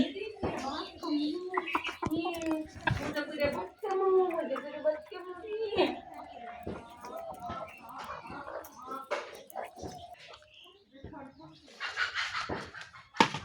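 Chickens let out of their coop in the morning cluck and call nearby, mixed with other bird sounds. A person talks at length over them.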